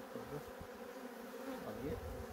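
Honey bees buzz steadily around an opened beehive during frame inspection, a dense continuous hum of many wings close by with a few individual bees swelling louder as they pass near.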